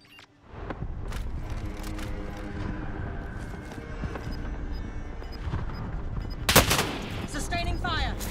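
Call of Duty Warzone gunfire: sustained rapid automatic bursts rattling almost continuously, loud and close, with a sharper crack and mechanical clatter near the end and a voice calling out over the shooting.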